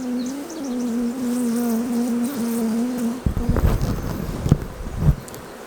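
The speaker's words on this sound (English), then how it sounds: "We got a bee in there." A bee in a long hive buzzes with a steady close drone for about three seconds, then gives way to irregular handling knocks and rustles, with a few faint buzzes rising between them.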